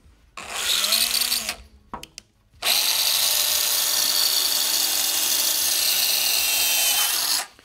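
A power drill bores holes into the grille of a 1999-2004 Ford Super Duty F250/F350 truck: a short whining burst, a brief pause with small clicks, then a long steady high-pitched drilling run, close and loud.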